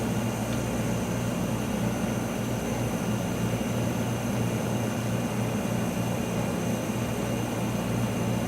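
Gas rushing steadily through a newly opened, pre-adjusted valve on a Plasma Equipment Tech 800 II plasma etcher, a constant broadband hiss over a low equipment hum with no pauses and nobody speaking.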